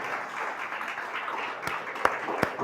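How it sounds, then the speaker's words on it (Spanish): A church congregation applauds with steady, dense clapping throughout, and a few louder individual claps stand out near the end. "le da un aplauso al Señor"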